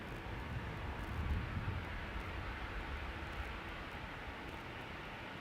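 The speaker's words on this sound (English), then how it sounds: "The A350 to Guangzhou is coming this way." An Airbus A350 airliner bound for Guangzhou approaches on the Polderbaan runway at Schiphol, its steady broadband jet roar filling the air at moderate distance, swelling slightly and then holding a continuous rumble.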